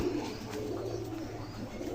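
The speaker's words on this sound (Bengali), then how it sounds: "অনেক ভালো একজোড়া কবুতর।" A pair of pigeons coo softly and steadily in a loft, low and continuous against a faint background hum, with no talking.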